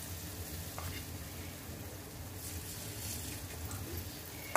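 Chicken pieces coated in a spiced mixture frying in hot oil for Chicken Manchurian, giving a steady, moderate sizzle throughout with a few faint clicks and no talking.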